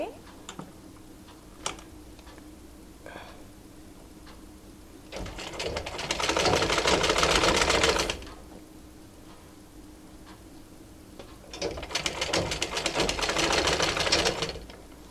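A sewing machine stitches raglan sleeves onto a baby frock in two steady bursts of rapid needle clatter, each about three seconds long, separated by quiet handling sounds.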